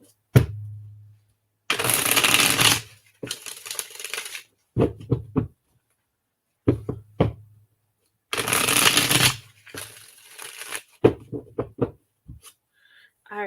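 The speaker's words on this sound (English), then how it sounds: "Do one more shuffle for you." Playing cards being shuffled in two long riffling bursts, each followed by short snaps and taps as the deck is squared, close and crisp with brief silences between.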